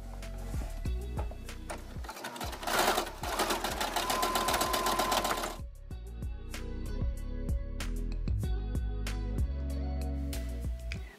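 A sewing machine stitches a small flower in newly changed thread colors, its rapid mechanical whir running steadily and loud with brief pauses and restarts between stitching bursts, no talk.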